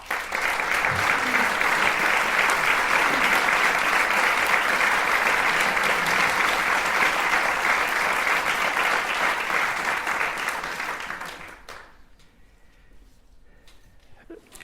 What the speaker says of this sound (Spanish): para los que les pido un fuerte aplauso